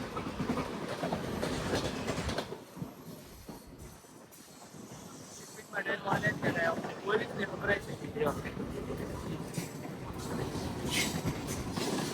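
A Mumbai local train rolls along at speed, its rumble and rattling clatter rising and falling, with people talking inside the carriage now and then.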